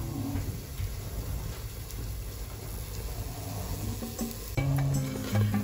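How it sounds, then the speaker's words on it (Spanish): An ingredient sizzles steadily in a frying pan and is turned over to fry the other side, with a constant close hiss and a brief clatter near the end as it is flipped. "Ya lo tenemos sofrito por una cara y ahora lo sofreiremos por la otra"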